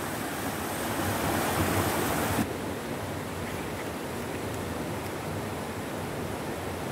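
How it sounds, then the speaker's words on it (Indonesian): A river rushing outdoors, a steady broadband roar of flowing water that stays constant and fairly loud, with some wind noise and no voices. "Ini sungai."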